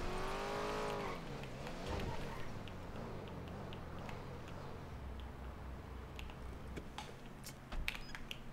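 A car engine drones steadily in a Portuguese-language roleplay video game, its pitch sweeping up and down as the car drives, with faint tire noise and scattered game sounds throughout.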